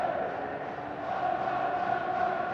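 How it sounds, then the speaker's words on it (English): Football fans applaud in a stadium during a Hibernian versus Rangers match, a dense, steady wash of crowd noise and clapping at moderate distance without a break. "these fans applauding him and the other players this afternoon"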